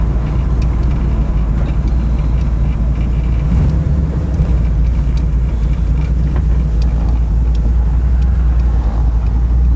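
A Ford GT40 fitted with a Corvette engine drives along a highway, its motor a loud, steady low rumble heard from inside the car with no one talking.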